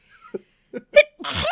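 A single sneeze with a few short breaths building up before it, close and fairly loud.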